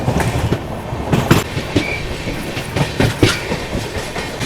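The 12442 New Delhi–Bilaspur Rajdhani Express runs on the tracks, with a steady, loud rhythmic clickety-clack of wheels and rattling carriages heard from a 3rd AC coach.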